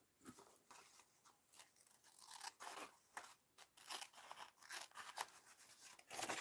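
Scissors cutting paper to fit a page, a quick run of crisp snips and rustles at close range, irregular and fairly quiet.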